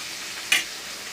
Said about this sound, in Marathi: इथे मी बटर घातलं, त्याच्यामध्ये थोडीशी पावभाजी घालूया, थोडीशी कोथिंबीर आणि मिक्स करून घेऊ